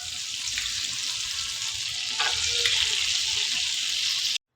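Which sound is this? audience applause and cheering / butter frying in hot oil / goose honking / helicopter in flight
butter frying in hot oil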